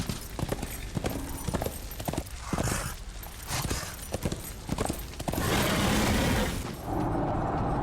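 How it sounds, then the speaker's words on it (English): Horse hooves gallop in the Darksiders video game, with a rapid rhythmic clatter of hoofbeats through a tunnel that gives way to a louder, denser rumble near the end. "This tunnel I can ride the horse in."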